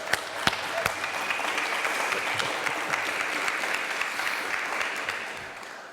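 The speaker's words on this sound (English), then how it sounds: "A round of applause," Applause from an audience at a school event, a few sharp early claps quickly swelling into steady, full clapping from a crowd that carries on evenly to the end.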